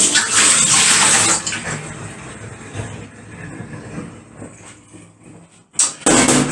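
Water from soaking almonds is tipped out and splashes down in a loud, close gush that thins to a trickle, then a second short pour follows.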